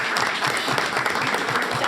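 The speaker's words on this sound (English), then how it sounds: "Let's give a round of applause." Board of education meeting audience gives a brief, steady round of applause, dense clapping from a room of people.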